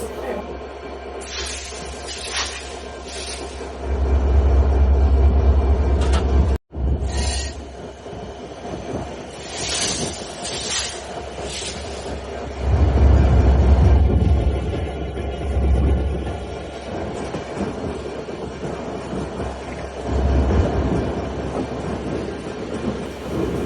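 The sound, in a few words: express train departing and running on tracks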